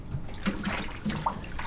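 Rinse water in a tub being agitated by hand while dyeing zippers, giving soft sloshing and trickling with a few small splashes, close but quiet.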